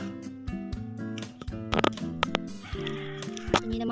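Farm goats bleat repeatedly, several overlapping wavering calls close by, one after another with short gaps, louder bursts near the middle and end.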